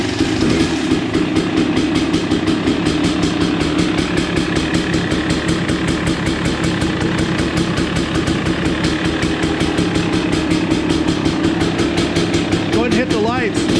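A KTM 300 dirt bike engine idles close by, a steady rapid two-stroke putter that runs throughout at constant loudness.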